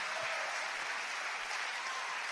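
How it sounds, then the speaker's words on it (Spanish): A church congregation claps together during a sermon, producing dense, sustained applause at moderate volume that fills the whole moment without a break. "Démosle palmas al Señor"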